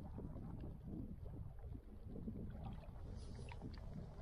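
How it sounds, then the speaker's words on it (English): Canoe paddling into a strong headwind and rain on an early spring trip, with a steady broadband wash of wind and water and soft paddle strokes that keep going throughout, moderately close and fairly quiet. "now we're paddling into a pretty strong headwind and rain"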